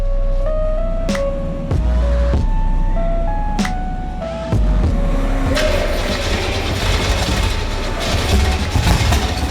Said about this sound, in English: you can hear them trying to start the car